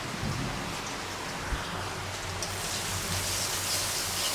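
Steady rain falling outdoors, a dense even hiss of drops on surfaces with a low background rumble, continuous and moderately quiet with no voices.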